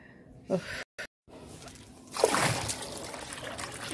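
Water trickles and splashes from a pouring vessel onto potted plants on a rooftop, with a brief spatter early and a longer, louder pour later, and a voice speaking faintly.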